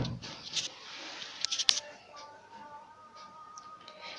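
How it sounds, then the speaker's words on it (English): Scissors snipping through net cloth while cutting a curved neckline for a choli, giving a few quick, faint crisp snips close up, then quieter rustling. "Take a scissor and cut it."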